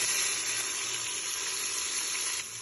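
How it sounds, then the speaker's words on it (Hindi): Tomatoes, green chillies and onions hit a frying pan of golden-browned potato and aubergine, producing a loud, steady hiss of sizzling oil that eases off near the end. "अब हम इसमें टमाटर, हरी मिर्चें और प्याज डालेंगे।"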